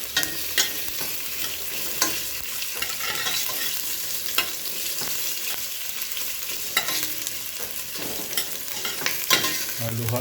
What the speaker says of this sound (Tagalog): Kailangan talaga importante na halo para pantay yung luto.